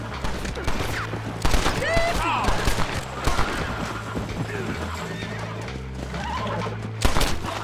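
A horse whinnies in the Red Dead Redemption video game, a bright neigh near the start over clattering hooves and scattered gunfire, with someone talking intermittently.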